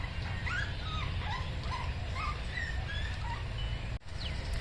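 A frightened puppy in India whimpers in a string of thin, high, wavering cries, close and fairly loud over a low rumbling background.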